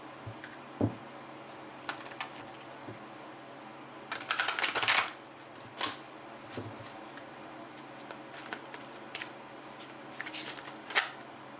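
Oracle cards are shuffled by hand in a quiet room, with a short flurry of riffling near the middle and a few soft, scattered card taps and clicks around it, faint and close, with no talking.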